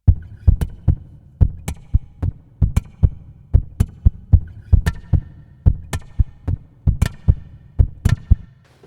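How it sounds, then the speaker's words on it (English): Snappy snare-like taps struck on the body of an acoustic guitar and looped, a steady repeating pattern of short percussive hits over a low thudding pulse, close and clear with no talking. "It gets a nice snappy snare sound."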